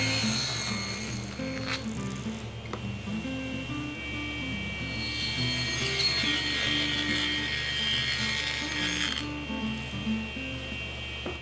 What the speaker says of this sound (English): I'll now run the board through like this and that will complete the rabbet